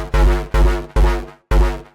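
Four short, dark synth bass stabs hit in a steady rhythm, each swelling with a lush chorus shimmer and trailing into a brief, tight room reverb tail, alone with no voices.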